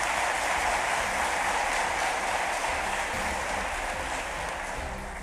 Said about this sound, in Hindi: एक बार आप भी तालियां बजा के पूरी टीम का स्वागत कीजिए।